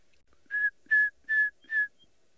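A person whistles an imitation of a tinkerbird call: four short, evenly spaced whistled notes, clear and close, with no other sound around them.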